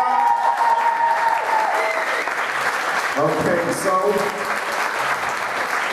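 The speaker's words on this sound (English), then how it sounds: "can we start with that, a big hand clap for everyone?" Loud sustained applause and clapping from an indoor audience at a CASPA CD performance event, continuous dense clapping with voices speaking over it and tonal sounds mixed in.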